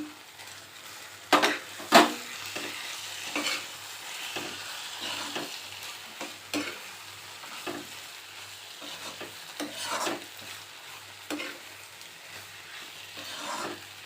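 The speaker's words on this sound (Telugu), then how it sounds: "ఇప్పుడు ఉల్లికారం మగ్గిన తర్వాత కాకరకాయ వేసేసుకోవాలి" Bitter gourd fries in onion chilli masala in a pan, with a soft continuous sizzle under repeated scraping and clinking as a spoon stirs it close by, and no one talks.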